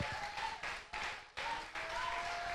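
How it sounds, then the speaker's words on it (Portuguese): A church congregation claps together through a worship service, the broadband clapping steady and fairly loud, with a faint sustained tone from music or voices underneath. "Vamos aplaudir o nome do Senhor."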